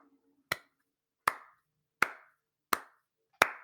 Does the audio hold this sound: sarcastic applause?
yes